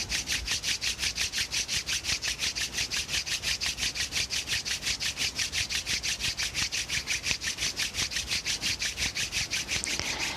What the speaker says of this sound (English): Bring your palms to touch at heart center. Begin to rub them, building up some heat between them.